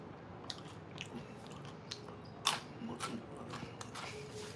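Crunchy Nagaraya cracker nuts, a Filipino beer snack, being chewed up close: irregular crisp crunches and bites, one sharper crack partway through, over a low background hiss.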